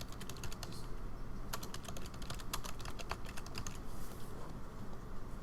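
Fingers type on a computer keyboard in quick, uneven bursts of light clicking with a short pause between runs, fairly quiet and with no talking.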